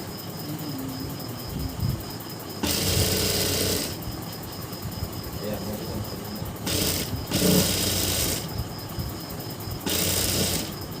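A sewing machine stitches fabric in several short bursts of rapid mechanical whirring, separated by quiet pauses, close and fairly loud with no talking.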